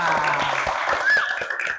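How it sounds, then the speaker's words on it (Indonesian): Classroom applause breaks out during a school lesson, a steady patter of many hands clapping close by, with some voices mixed in over it. "Tepuk tangan untuk kita semua."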